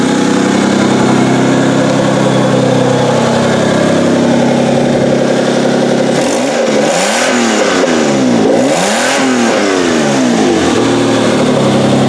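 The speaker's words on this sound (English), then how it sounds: "She revs up nice" A truck engine, recently rewired with its fuse box moved from under the hood to under the dash, runs loudly and close, first holding a steady idle and then revving hard in several rising and falling bursts before settling back.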